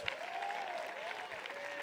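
Steady applause from a church congregation during a sermon, continuous and fairly even, with a faint sustained tone running beneath the clapping.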